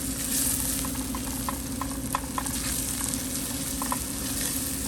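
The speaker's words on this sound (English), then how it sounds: "You want to lightly toast this." Rice toasting in a pan for mushroom risotto gives a steady, close sizzle with a few soft stirring clicks scattered through, and no talking.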